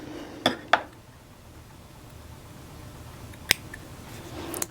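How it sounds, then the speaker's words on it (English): Scissors snipping loose thread ends on a sewn knit dress: two quick sharp cuts close together, then one more crisp snip a few seconds later, in a quiet room. "Let me trim off these ends."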